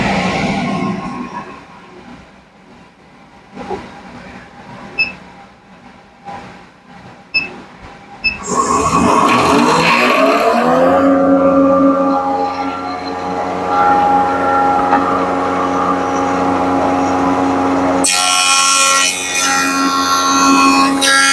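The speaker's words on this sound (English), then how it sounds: "now we'll go ahead and turn on the dust collection, put on my ear protection, and I'll go ahead and joint this" A Shopsmith jointer edge-joints wide wood stock with a dust collector running. A loud, steady machine roar with a droning hum starts after several quiet clicks and handling knocks, then stays loud to the end and grows harsher near the finish.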